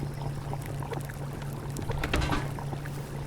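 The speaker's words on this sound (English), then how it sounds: "I just want to see the pot bubbling and listen to that sound." A pot of tomato soup in the survival game Subsistence bubbles and pops steadily over a low hum, with a soft, continuous, close-up simmer and no talking.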